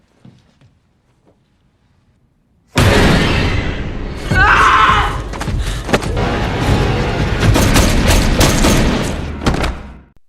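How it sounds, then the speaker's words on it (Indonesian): A sudden loud burst of pistol gunfire after near silence, followed by a long stretch of rapid shots, crashes and chaotic noise, close and intense. "si Sandin dengan cepat membunuhnya dengan pistol"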